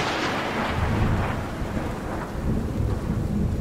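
Thunder rumbles loudly over steady heavy rain in a continuous storm, rain hissing throughout.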